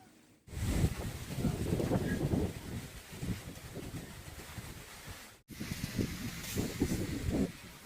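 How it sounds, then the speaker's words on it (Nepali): Strong wind blows outdoors around a house on a windy day without rain, gusting roughly and loudly into the microphone with deep rumbling buffets, broken by a brief pause before it resumes. "हावा चलेको नेचुरल साउन्ड सुन्न सकिन्छ है."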